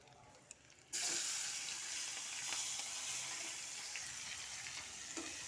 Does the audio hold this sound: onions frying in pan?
yes